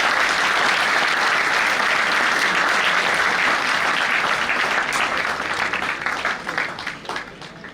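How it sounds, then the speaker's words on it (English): An audience at an RKGIT ceremony gives the chief guest a loud, dense round of applause that holds steady and then thins out toward the end. "Ladies and gentlemen, huge round of applause for Shri Nipun Agarwal."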